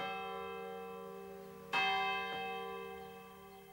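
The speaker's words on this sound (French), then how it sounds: "les cloches de toutes les églises sonnaient le glas." Church bells toll a death knell, a sustained ringing tone struck again with a fresh loud clang partway through, then a second softer stroke as the resonance slowly decays, with no voices.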